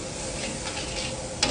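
Greens sauté in oil with turmeric, a short burst of soft, even sizzling close by, ending in a single sharp scrape of a utensil, with no talking.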